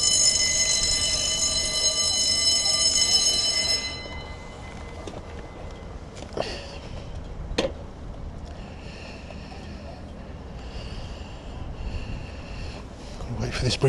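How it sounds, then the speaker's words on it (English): Warning bell at a lifting bridge rings before the span lowers, a steady high ringing tone near and loud for about four seconds over outdoor traffic and engine rumble, then fading into background noise with brief knocks. "The bell will ring and it'll go down."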